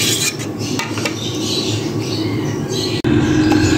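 Carrot kheer being mixed in a cooking pot, with a steady close clatter and scrape of a spoon against metal and soft bubbling, continuous throughout with one brief break near the end.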